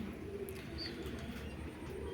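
Pigeons coo softly in low, murmuring tones, faint and continuous, with a brief higher chirp partway through and no talking.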